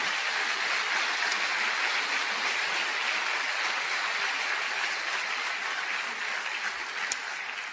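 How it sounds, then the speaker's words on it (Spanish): A church congregation applauds in a steady, dense wash of clapping that holds evenly for several seconds, with no voices over it. "¿Cuántos le dan un aplauso a él?"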